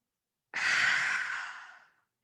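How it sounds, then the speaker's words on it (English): A single deep inhalation drawn in during a relaxation exercise, one long airy breath swelling quickly and fading out over about a second and a half, close and alone with no talk. "Let's take a breath."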